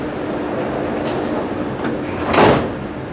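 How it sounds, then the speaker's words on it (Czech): Doors of a Prague metro Line C train sliding shut, a whooshing slam peaking near the end over steady carriage rumble, after a chime-like tone. "Dveře se zavírají."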